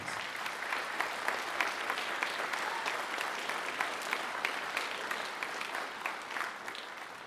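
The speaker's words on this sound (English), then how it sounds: "Let's give them a nice round of applause." A concert audience applauds a school all-conference band steadily, a dense patter of many hands clapping at an even level throughout.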